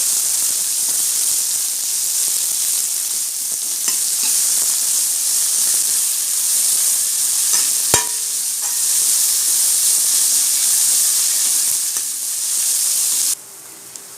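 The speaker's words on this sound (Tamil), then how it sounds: "நம்ம வெங்காயம் போட்டுக்கலாம் வெங்காயம் நல்லா வதக்க விட்டுக்கலாம்" Onions sizzle in hot oil in a pan, a steady bright frying hiss that stays loud and even throughout, with a brief clatter near the middle and no talking.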